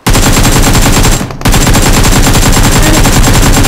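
Automatic gunfire in the mobile battle royale game BGMI, loud rapid bursts of shots with a brief pause after about a second before the firing resumes.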